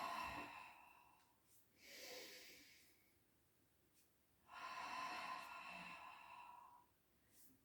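Soft, close breaths during a pilates exercise, with a quick sniff followed by two long airy exhales separated by quiet inhales, all faint and without speech.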